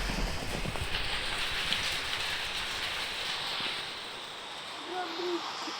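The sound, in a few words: rain falling, in a video game and outdoors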